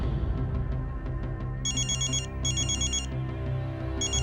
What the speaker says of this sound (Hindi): 12 बजे अंतरा के फोन पर रुद्र का कॉल आया